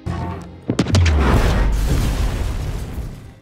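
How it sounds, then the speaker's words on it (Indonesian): A bomb detonates in a hallway during an action film scene, a loud, close, booming blast with sharp initial cracks followed by a long rumbling roar and debris that slowly fades. "Setelah terjadi ledakan"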